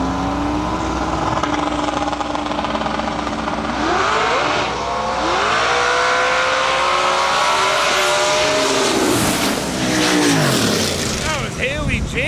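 Drag racing cars roar down the strip at a qualifying event, engines revving hard with rising and falling pitch sweeps as cars pass, loud and continuous, a Corvette among them, with an announcer talking over the noise.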